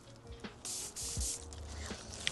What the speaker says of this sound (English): we are going to go back in with my Fenty setting spray and set the face.